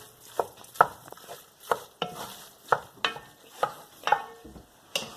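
Berbere seasoning being stirred into scrambled tofu in a pan, a steady series of about a dozen scraping spoon strokes with a soft sizzle beneath, close and fairly loud, with no voices.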